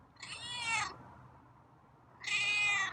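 Two drawn-out, raspy meows from a feral cat, each under a second long, separated by a short quiet pause and heard close up.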